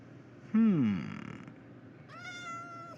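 A Minecraft cat gives a clear falling meow, followed a moment later by a higher, tonal cat sound, both fairly close over a quiet background.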